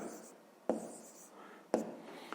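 Pen scratching out numbers by hand on paper while working a fifth-grade math exercise, soft and steady, with two sharp taps of the pen against the page.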